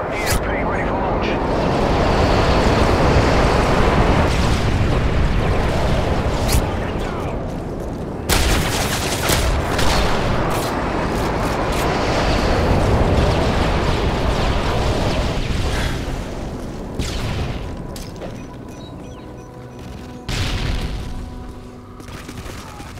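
Call of Duty MW3 airstrike bombs explode in a long roaring barrage of heavy booms with rumbling aircraft noise, loud and continuous, followed by scattered gunfire and blasts, with game voice callouts mixed in.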